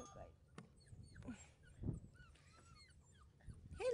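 A puppy gives a few thin, high whimpers and yips near the end, with scattered soft thumps and faint background sounds between them.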